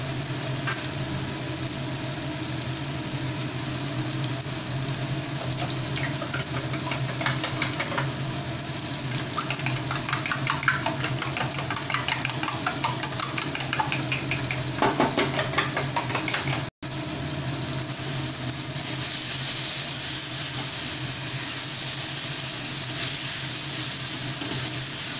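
Eggplant (brinjal) frying in a pan for a spiced egg-and-brinjal fry, giving a steady close sizzle throughout with faint stirring scrapes and a brief cut near the end.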